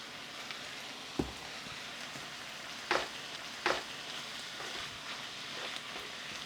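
Keto goulash ingredients frying in fat in a pan, a soft steady sizzle with a few sharp pops and clatters standing out at intervals.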